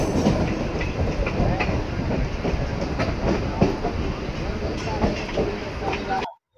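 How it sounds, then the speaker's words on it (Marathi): A Mumbai local train pulls into platform 3 at Currey Road station during Ganeshotsav, its loud rumble and rhythmic wheel clatter rolling on steadily as people talk over it, before the sound cuts off abruptly. "प्लेटफॉर्म क्रमांक 3 पर आई हुई लोकल 4:56 की मुंबई"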